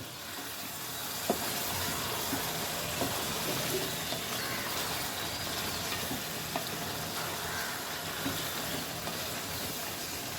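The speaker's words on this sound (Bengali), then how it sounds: "একবার উঠিয়ে নেড়ে নিলাম, কারণ হলো লেগে গেছে কিনা এটা দেখার জন্য" Spicy duck meat curry cooking in a pan, a steady low sizzle and hiss with occasional faint stirring knocks against the pan, continuous and moderately quiet with no talking.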